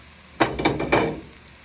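Pieces of meat hit a hot oiled pot for Mediterranean rice, giving a sudden crackling sizzle with a few clattering bursts that swell and then settle into a steady hiss, close by.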